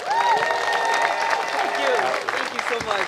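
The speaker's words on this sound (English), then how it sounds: "Will you all clap it up for Miss Renee Brown?" Sustained applause and cheering from a large ceremony crowd fill the whole stretch, dense and steady, with a few whistles rising over the clapping as the audience welcomes Renee Brown.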